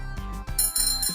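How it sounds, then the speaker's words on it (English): A bicycle bell rings in a few quick bright dings over a short stretch, near and clear, alongside light background music. "Bicycle."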